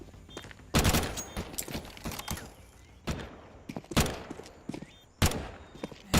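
MAC-10 submachine-gun fire rips through a Counter-Strike match. Several loud bursts of rapid shots come in separate bursts, with other gunfire crackling between them, and no voices are heard.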